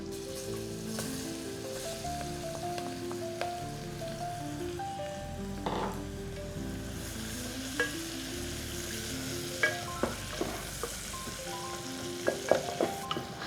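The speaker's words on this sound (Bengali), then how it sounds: "আমরা পেঁয়াজটাকে একটু ভেজে নেব।" Chopped onions, with minced garlic, fry in a pan for chicken stew, a soft continuous sizzle broken by occasional sharp crackles and pops that grow more frequent near the end.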